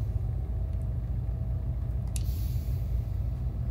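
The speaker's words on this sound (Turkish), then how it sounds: "Rölanti sesi güzel." Truck engine idling with a Kurt exhaust in Euro Truck Simulator 2, a deep steady low-pitched rumble with pulsing throb, close and continuous, with a brief hiss near the middle.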